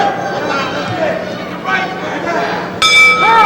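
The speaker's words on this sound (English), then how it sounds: "There's the bell." A boxing ring bell clangs to end round five of a scheduled ten-round heavyweight fight, ringing out sharply with sustained metallic tones over a loud, continuous arena crowd and commentary.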